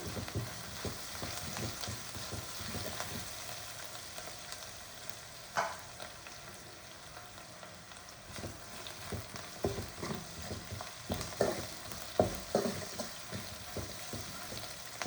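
Curry ingredients sauté in a pan for a roasted-gram curry, giving a low continuous sizzle. Irregular scraping stir strokes grow busier and louder toward the end.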